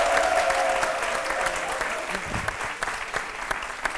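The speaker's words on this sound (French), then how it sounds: "Lato Crespino, que je vous demande d'applaudir très très très fort." A television studio audience applauds loudly with steady, dense clapping throughout, with a voice briefly heard under the clapping.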